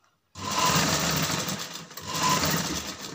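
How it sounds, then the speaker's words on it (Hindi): A sewing machine stitches around the piping on a salwar sleeve, starting abruptly after a moment of silence and then running as a steady, close whirring hum with one brief slowdown midway. "इस तरह से पूरे में जो है राउंड में सिलाई डाल देनी"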